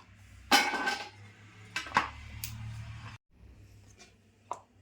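Sharp knife chopping okra into inch-long pieces on a board in a home kitchen, a few distinct crisp cuts and taps spaced irregularly, close and moderately loud with a steady low hum underneath.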